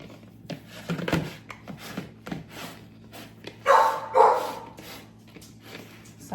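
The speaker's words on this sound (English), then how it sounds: "Sorry about the puppy. She's in her kennel." A puppy confined in her kennel barks and yips in short, scattered bursts, two louder barks standing out, with quieter whimpers between, heard from inside a home kitchen.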